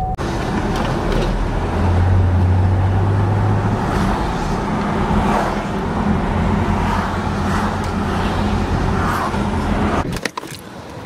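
A car driving right after a stint behind the wheel of a U-Haul truck gives a steady, fairly loud engine and road rumble that holds throughout, then cuts off abruptly near the end with a brief clunk.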